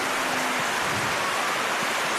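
Steady, dense hiss of rain falling over an outdoor evening football ground, NTFL Premier League match between Darwin Buffaloes and Wanderers, continuous and fairly loud with no talk.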